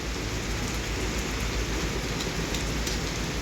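Steady rain falls in a continuous, dense hiss with no break. It is fairly loud and close, and no one speaks.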